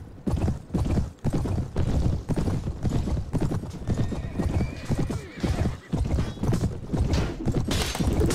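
Cavalry horses charging in the Mount&Blade: Clash of Kings video game, a dense, continuous thunder of clip-clopping hooves with neighs and whinnies scattered through, loud and close throughout.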